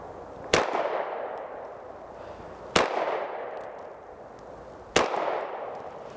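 Three loud, sharp Beretta APX pistol shots fired at an outdoor range, evenly spaced about two seconds apart, each with a sharp crack and a ringing decay.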